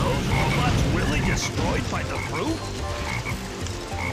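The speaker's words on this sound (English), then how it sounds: "That black frog!" A black frog croaks in the video game Sonic Heroes, its low gurgling calls sounding amid busy game effects, a dense rumble and a voice talking over it.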